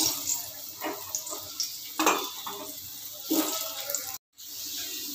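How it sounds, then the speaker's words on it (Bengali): Potatoes frying in a pan, cut the way they are for fish curry, give a steady close sizzle with a few stirring clatters and scrapes, then a brief gap before the sizzle resumes. "দেখো আলুগুলো হালকা হালকা ফ্রাই হয়ে গেছে।"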